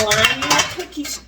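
A metal cookie sheet set down on a kitchen counter while candy is being made, a few close, loud clattering metallic clanks ringing briefly within about a second.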